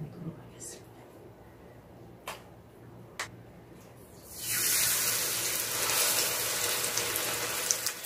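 Korean jeon pancakes of assorted vegetables and egg frying in a hotpot pan, a broad steady sizzle starting midway and continuing loud and close after a few faint ticks and taps.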